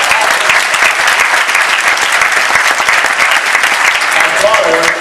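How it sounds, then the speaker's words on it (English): Graduation audience at a college commencement gives a loud, sustained round of applause, thick and continuous clapping from a large crowd, with a faint voice near the end. "So give yourselves another round of applause"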